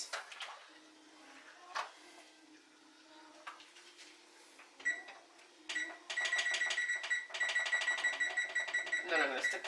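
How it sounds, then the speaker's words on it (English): An oven timer in a home kitchen is set, first scattered clicks and knocks, then a long run of rapid electronic beeping that sounds close and fairly loud. "I'm going to set the timer for another 30 minutes."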